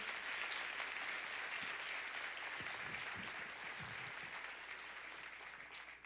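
A church congregation applauds during a worship service. The clapping is continuous and even, sounds somewhat distant and fills the whole stretch without a break.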